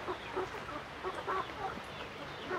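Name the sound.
chicks clucking in a box in the rain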